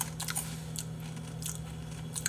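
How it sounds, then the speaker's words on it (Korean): Crispy roasted garlic served with charcoal-grilled salt chicken being bitten and crunched, with several sharp crackly bites close up over a steady low hum. "마늘 완전 그 내가 좋아하는 그 바삭바삭한 소리 봐"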